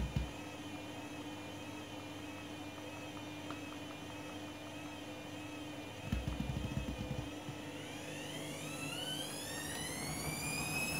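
A washing machine running an internal spin cycle on a half load, holding a steady low drone, then a brief rumble, then a whine that climbs in pitch as the drum speeds up.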